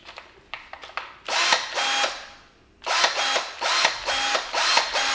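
A battery-powered clipper cutting metal in a machine shop, giving short mechanical whirring bursts that start, stop and repeat, close and fairly loud, with no talking.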